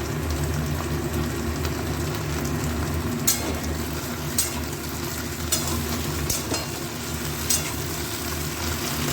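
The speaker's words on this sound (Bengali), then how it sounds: "এবার এর মধ্যে দিয়ে দেবো আলু আর পেঁয়াজ দিয়ে, নুন দিয়ে একটু ভেজে দেবো" Okra, potatoes and onion with salt fry in hot oil in a pan, giving a steady low sizzle with occasional sharp crackles and stirring clicks, no talking.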